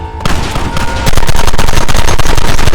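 Rapid gunfire in the Western game Red Dead Redemption, a loud, dense volley of shots that grows heavier partway through and keeps going as a continuous barrage.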